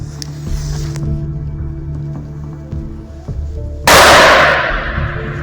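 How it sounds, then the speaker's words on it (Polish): A firecracker thrown into a tree hollow gives a single loud, sharp explosive bang partway through, its noisy blast decaying over the following second and a half against steady background hum. "Jako pierwsze miejsce, w którym rzucimy naszą petardę, to jest tak zwana dziupla."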